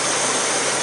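A car engine idles during an A/C top-off, a dense, steady broadband drone with no change across the short stretch.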